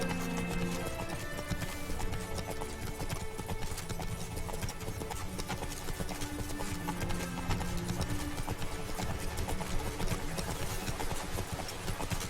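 Fast, continuous hoofbeats from a galloping horse in The Witcher 3: Blood and Wine, a dense drumming rhythm blended into loud game music and ambience throughout.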